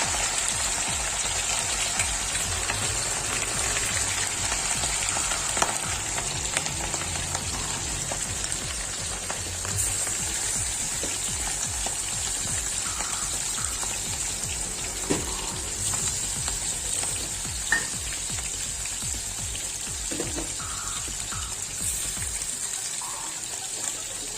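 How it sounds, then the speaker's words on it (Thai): Pork ribs coated in starch, for fermented naem, deep-frying in oil: a steady close hiss and fizz of bubbling oil with scattered sharp crackles and pops, continuous throughout with no talking. "เราก็ จะใส่เนี่ยมันไปทอดนะครับ"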